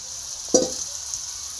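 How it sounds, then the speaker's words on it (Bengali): Potato pieces dropped into partly cooked, frying chicken masala, a single soft thump over a continuous moderate sizzle, no one talking. "এখন আলুটা দিয়ে দেব"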